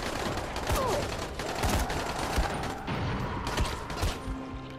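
Steady gunfire in the zombie game Dying Light, a rapid, fairly close series of sharp shots and rattling bursts running throughout, mixed with mechanical clatter and a brief voice.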